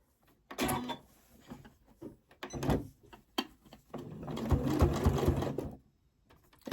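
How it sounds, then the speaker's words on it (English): A sewing machine stitches ribbon onto fabric for a small sensory fidget toy, running in several short close bursts separated by pauses, with a louder sustained run near the end. "now we're just going to go and sew that on the machine"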